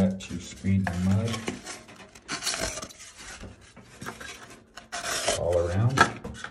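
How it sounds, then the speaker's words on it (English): A steel trowel scrapes and screeds a tile mortar bed along a notched board around a window, making repeated rasping strokes in short bursts with pauses between them. "So use that to screed my mud"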